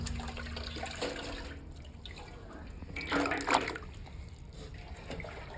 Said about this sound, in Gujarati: નાખો પાણી